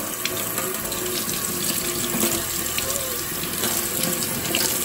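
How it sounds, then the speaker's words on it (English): Hot water pours steadily from a kitchen tap into a sink, a continuous close hiss and splash for making JELL-O pudding pops, with no voices over it. "just add a little hot water"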